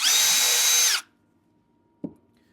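A power drill whines steadily for about a second while driving a screw into a wooden birdhouse kit, then cuts off, followed by a single short knock, close and without talk.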